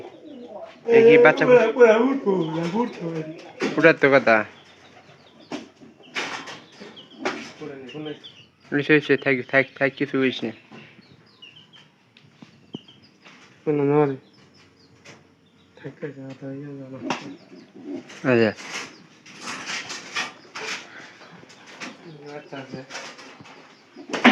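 Soft throaty pigeon coos roll in repeated phrases nearby, mixed with people talking over them.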